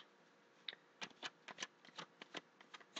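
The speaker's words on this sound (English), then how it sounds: "one more shuffle" A deck of cards is shuffled by hand at close range, a quick run of crisp riffling bursts and soft taps in an uneven rhythm over a very quiet background.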